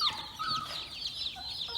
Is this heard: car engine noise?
no